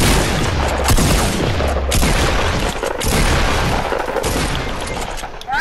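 Dense, loud bursts of rapid gunfire crackle almost nonstop in a squad battle-royale video game match, with heavy booms and echoing shots layered over one another and no clear talking.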